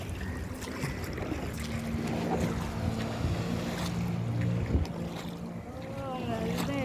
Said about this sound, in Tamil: Water scooter.